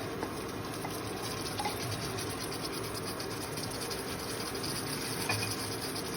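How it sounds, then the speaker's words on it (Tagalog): Pork marinade being poured into a cooking pot, a steady liquid splash and trickle running continuously at moderate level, with faint scraping, no talking. "Ilalagay ko pala dito mga kaulam ideas yung marinade na pinagmarinita natin kanina ng pork."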